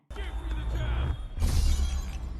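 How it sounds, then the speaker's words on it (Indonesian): The dragon stone shattering into several pieces in an animated film, heavy rumbling cracks building into a second loud burst of breaking debris, with a voice in the background. "Batu naga kemudian pecah menjadi beberapa bagian."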